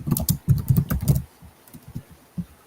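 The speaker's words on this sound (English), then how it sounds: "I was typing." Quick bursts of keystrokes rattle on a computer keyboard, loud and dense at first, then thinning out to sparse, softer taps with no talking.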